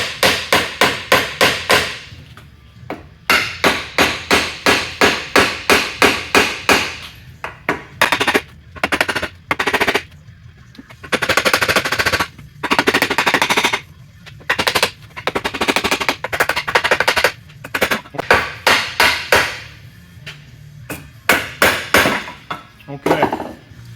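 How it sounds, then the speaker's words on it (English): Rapid, loud hammer blows ring out on metal in fast bursts, with brief pauses and a few harder strikes, close by, tapping a part loose on a Ford 9-inch rear axle center section. "So we're gonna take a hammer and just give this a little tap"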